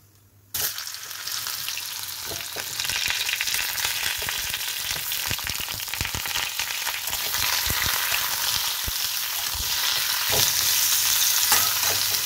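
Sliced pointed gourd fries in oil in a hot kadai, a loud, steady close sizzle starting abruptly and continuing throughout, with occasional scrapes and clicks of stirring.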